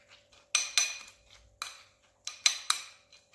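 A spoon clinks against a bowl while plant-based yogurt is stirred into a vegan snack mix, giving a handful of sharp, close, irregular taps with quiet gaps between them.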